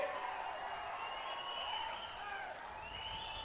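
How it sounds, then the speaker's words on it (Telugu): An audience at a political rally claps in a dense, sustained burst of applause that continues steadily at moderate distance with a faint crowd murmur. "గట్టిగా చప్పట్లు కొట్టి హర్షాన్ని, ఆమోదాన్ని తెలియజేయండి"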